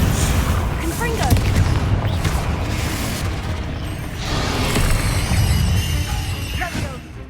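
A Confringo fire spell bursts in an explosion during Hogwarts Legacy combat, a loud roaring blast with rumbling booms and crackling debris amid ongoing battle noise, while a voice speaks over it.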